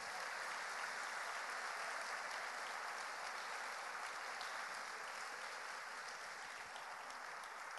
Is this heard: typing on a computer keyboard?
no